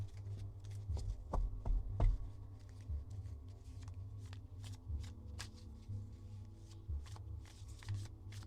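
A deck of playing cards shuffled by hand, close and quiet: crisp riffles and papery flicks in irregular bursts, with a few sharper snaps and taps against a table, and no voices.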